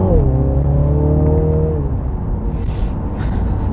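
Turbocharged engine of a 2020 MINI Clubman John Cooper Works pulls hard in second gear, a loud, steady rising drone heard from inside the cabin with no talking.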